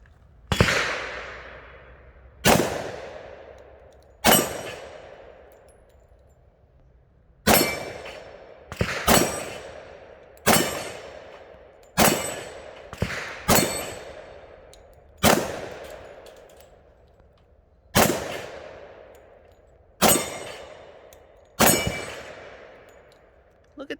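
A Springfield Armory XDM Elite 10mm pistol fires about a dozen sharp shots at steel targets, outdoors, each crack followed by a ringing clang, spaced unevenly a second or two apart, some in quick pairs.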